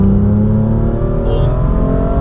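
Inside a BMW M2 LCI F87 with dual-clutch gearbox, the engine growls and builds under acceleration, a loud, rising layered drone heard from the cabin.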